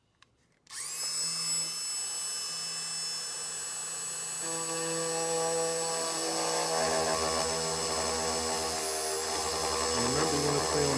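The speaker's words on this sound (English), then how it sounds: "now just use a Dremel and we'll cut it out." A Dremel rotary tool starts abruptly and whines at a high, steady pitch, loud and close, cutting a hole in the plastic cubby box of a 2018 or later Honda Goldwing, with the pitch shifting slightly under load.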